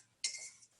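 A single short metallic scrape of a utensil against a pan while seasoning is stirred into pecans sautéing for tacos, close but faint and over in under a second.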